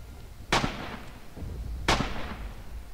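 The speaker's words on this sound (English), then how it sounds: "Got some shots going off." Gunfire in a World War II video game: two sharp, loud shots about a second and a half apart, each with a ringing, decaying tail over a low background rumble.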